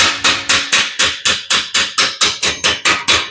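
Fourteen sharp, evenly spaced metallic hammer blows on sheet metal while shaping bottom corners for a 1941 Ford 2 ton truck cab, close and loud with a steady rhythm of about four strikes per second.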